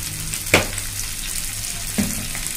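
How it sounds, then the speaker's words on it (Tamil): Six garlic cloves frying in a pan for tomato thokku, a steady soft sizzle throughout with two brief louder crackles or stirring clicks, no talking. "ஒரு 6 பல்லு பூண்டு போடுறோம்"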